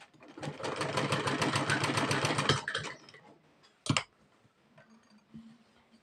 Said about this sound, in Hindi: इन दोनों को हम सिलाई पे रखेंगे बीच में और सिलाई मार देंगे